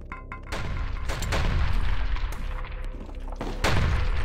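Rocket launcher blasts in the first-person shooter HROT boom repeatedly, loud and close, as heavy explosive thuds with rumbling tails, followed by another strong blast near the end.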